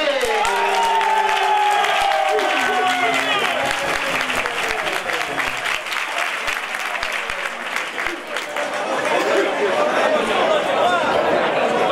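A crowd at a junior wrestling match in Bezana applauds steadily for a wrestler, with sustained clapping and chatter filling the venue and an announcer's voice heard over the start.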